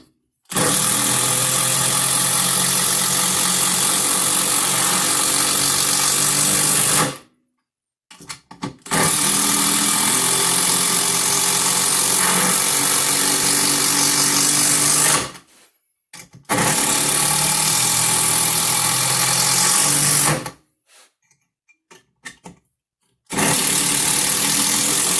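A Bosch 12V brushless driver spins 3-inch construction screws into wood in three long, loud, steady whirring bursts separated by short pauses, with a brief trigger blip between runs, close up and without talk.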